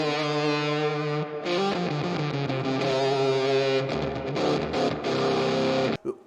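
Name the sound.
mini guitar with fuzz, delay and reverb effects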